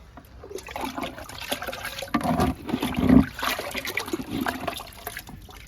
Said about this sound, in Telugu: లిక్విడ్ ఇస్తున్నా ఇంకొకటి కూడా ఇద్దాము పెద్ద మొక్క కదండి నిమ్మ మొక్క